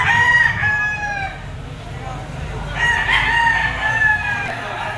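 Roosters crow repeatedly at a poultry auction market, two loud crowing calls rising over the background chatter of a busy crowd.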